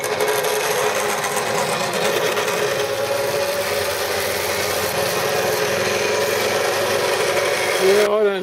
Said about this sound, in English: cheap Chinese drills, for me, they're cutting like butter